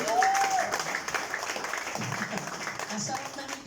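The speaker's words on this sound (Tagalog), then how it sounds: "So yung palakpak niyo po talaga hanggang kay Kuya Jason." Church congregation applauding during a service, steady dense clapping at moderate distance filling the space, with a voice talking over it at the start.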